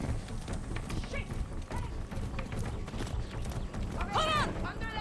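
Horse hooves galloping in Far Cry 6, with a steady rush of clip-clop beats mixed with game noise and voices, plus a short whinny-like cry near the end.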